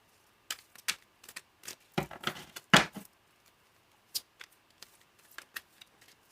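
Tarot cards shuffled by hand during a reading, a string of crisp riffling bursts and soft slaps, closer and louder in the middle, then sparser taps toward the end, with no talking.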